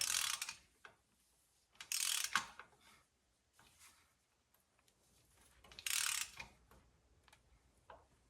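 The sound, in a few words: ratchet tightening a 24 mm bolt on a 4Runner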